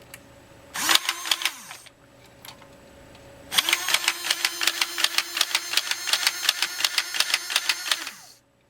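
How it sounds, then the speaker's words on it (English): A small electric motor inside a Nerf Tommy 20 gun runs in two bursts. The first is brief, then after a pause a longer run of rapid, evenly repeating mechanical clicks and whirring plays close up before stopping abruptly. "I'll pull the trigger back and I'll run this motor a little bit"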